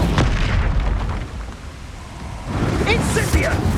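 A fiery Incendio spell blast in Hogwarts Legacy: a dense roaring burst of flame and impact noise swells near and loud, fading briefly before another surge, with voices speaking over parts of it.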